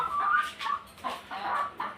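Chickens on a small mini farm, clucking repeatedly in short, close bursts with brief pauses between them and no talking.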